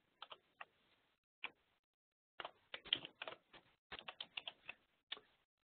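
Someone types an address on a computer keyboard, with short bursts of quick, close keystrokes separated by brief pauses and no talking.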